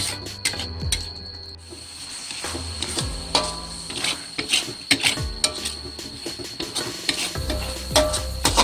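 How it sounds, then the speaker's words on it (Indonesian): Pineapple jam cooking down in a pan while a spoon stirs it continuously, producing repeated scraping and sticky bubbling sounds with a soft sizzle, close and moderately loud. "Ini kita akan masak hingga kisat. Jangan lupa diaduk terus ya agar nggak gosong."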